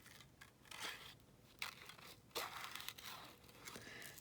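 Scissors loosely fussy cutting paper around an owl figure for an old decorated journal, close and quiet: a few snipping cuts with crinkling paper rustle between them, no voices.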